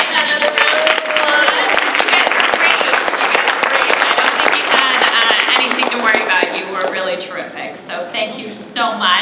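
A conference audience at a professional development session applauds first-time speakers, sustained mid-distance clapping from a sizeable crowd, with some voices and a brief vocal tone mixed in, easing slightly toward the end.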